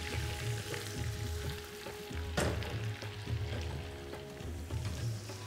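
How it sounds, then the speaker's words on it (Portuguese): Apples frying in butter in a pan, a steady close sizzle and crackle with a brief louder spatter midway, continuous and fairly quiet. "colocar essas maçãs todas aqui nessa manteiga. E vou deixar elas cozinhando até que elas fiquem mais ou menos douradas"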